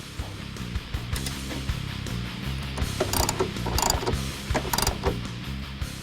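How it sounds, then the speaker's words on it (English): A ratchet wrench tightening bolts on BMR rear lower control arms for a 2005-2014 Mustang, rapid clicking bursts in uneven runs, close up with light metallic clatter and no talk. "You want to tighten this one up and then go back and tighten the front bolt."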